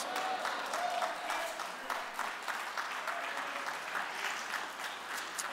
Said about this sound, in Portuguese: vamos aplaudir com gosto, né, gente?